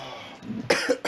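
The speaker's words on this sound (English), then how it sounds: "He starts coughing." A person coughs in a couple of short, harsh bursts close to the mic during a tabletop role-playing session, with a brief pause between them.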